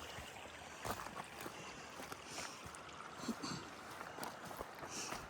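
Water runs out of a culvert on a homestead with a soft, steady rushing and trickling, faint and continuous with a few light splashes, heard outdoors without talk.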